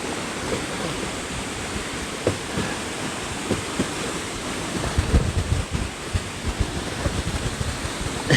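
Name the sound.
wind blowing at Gokak Falls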